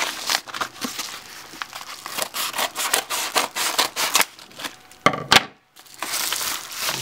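A package of miniature props being cut open, with crinkling plastic, snipping and rustling in uneven bursts, close up, briefly dropping to near silence before the handling resumes.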